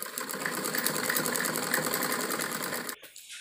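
A sewing machine double-stitches salwar panels in one continuous, rapid, even run of needle clatter, stopping abruptly near the end.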